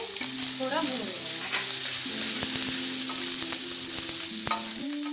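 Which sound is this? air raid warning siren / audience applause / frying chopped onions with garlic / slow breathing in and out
frying chopped onions with garlic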